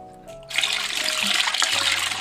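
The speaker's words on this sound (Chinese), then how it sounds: "薯渣再多清洗几遍" Purple sweet potato pulp is rinsed in water by hand, a loud continuous splashing and sloshing that starts abruptly and keeps going close up.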